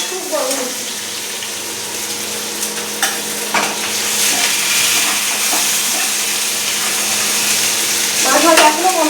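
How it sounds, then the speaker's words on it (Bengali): Fish fries in a pan with a steady, loud sizzle that runs throughout, broken by occasional stirring knocks and scrapes close by. "মাছ ভাজা এখনো কমপ্লিট হয়নি।"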